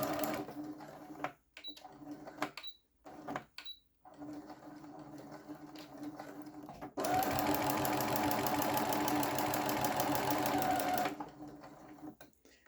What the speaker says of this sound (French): puis on commence notre couture.